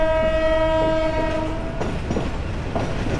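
A commuter train in northern Bangladesh rolls through a long curve near Parbatipur, its steady horn sounding for nearly two seconds before fading into the rhythmic clatter and rumble of wheels on the rails.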